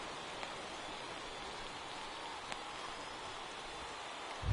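Rain falling during a baseball game in MLB 18, a steady soft hiss of rainfall with a couple of faint drips, continuous and even with no talk.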